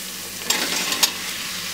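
Finely chopped, thinly sliced onions fry in a pan for mutton yakhni pulao, giving a steady soft sizzle with two brief louder bursts of stirring or frying.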